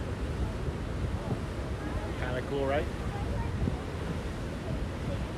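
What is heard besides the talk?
Niagara Falls waterfall at water level, north side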